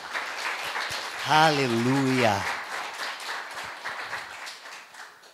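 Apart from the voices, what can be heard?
church congregation applauding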